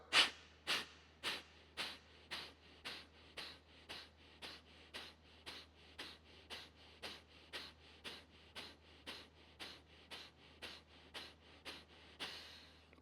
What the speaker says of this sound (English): big breath in